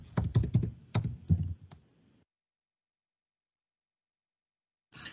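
Quick bursts of keystrokes on a computer keyboard while entering figures into a spreadsheet, close and crisp, stopping after about two seconds and resuming briefly at the end.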